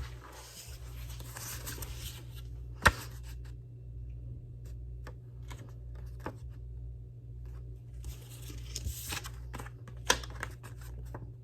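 Paper note cards are handled quietly, with soft intermittent rustling and scraping and a few sharper taps or clicks against a low background hum.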